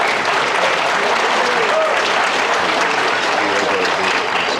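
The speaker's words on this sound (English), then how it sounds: "one more round of applause" Audience applause at a high school athletic banquet, dense and loud clapping from a full room that stays steady from start to finish.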